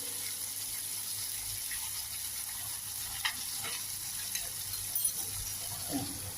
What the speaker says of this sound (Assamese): আলুখিনি দি দিছোঁ দেই। লৰাই দিব।